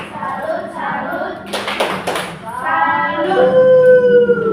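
A classroom of primary-school children clap and chant a rhythmic 'tepuk salut' routine, sharp bursts of hand claps mixed with young voices and an adult's talk.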